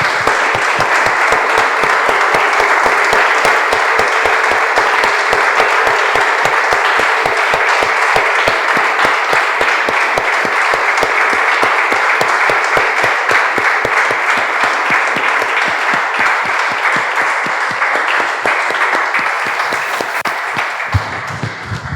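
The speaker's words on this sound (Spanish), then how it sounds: "Damos un aplauso, hermanos, al Señor." A church congregation applauds for over twenty seconds in loud, sustained clapping, with a steady rhythmic beat running through the dense wash of hands.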